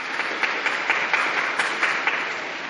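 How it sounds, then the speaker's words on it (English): Crowd applause for mothers at a Vatican gathering after the Regina Coeli prayer, a broad, steady roar of many hands with distinct sharper claps popping out, heard alone and fairly loud. "A round of applause for mothers."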